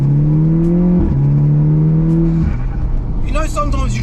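A stage 2 tuned Audi TTS engine droning steadily at low revs, with a rising note and a gear change partway, close and loud, while someone talks over it toward the end.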